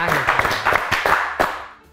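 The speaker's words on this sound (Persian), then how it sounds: "یک کف بزنین منظم" A game-show studio audience claps together in a steady, roughly regular rhythm, a run of sharp, fairly close claps that fades out near the end.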